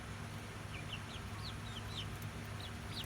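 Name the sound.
chickens clucking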